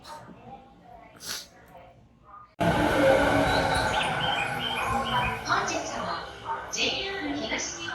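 After a quiet stretch with faint chirps in the rain, a loud JR East train roar in Japan suddenly rises and rumbles on steadily, close by and continuous.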